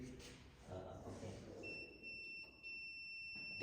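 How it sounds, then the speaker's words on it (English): A local alarm on a camera security system with face recognition sounds as a steady electronic tone, a high sustained beep holding over background noise and faint talk. "one that's a local alarm."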